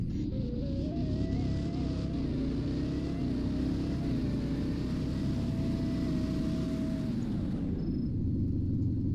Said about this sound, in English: Now 0 to 60 braking test